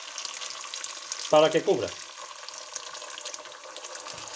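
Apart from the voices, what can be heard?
lentils frying in a pan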